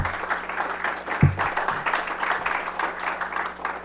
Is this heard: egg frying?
no